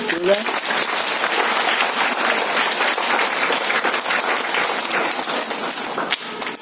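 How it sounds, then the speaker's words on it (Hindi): A room of schoolchildren bursts into sustained, steady applause at a motivational talk, dense clapping holding evenly for several seconds with a brief voice near the start. "ताली बजाओ सब बच्चे।"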